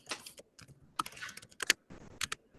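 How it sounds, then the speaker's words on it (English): Computer keyboard keys clack in short irregular bursts of quick taps, close and fairly crisp, with brief pauses between clusters and no talking over them. "Can you hear when I type?"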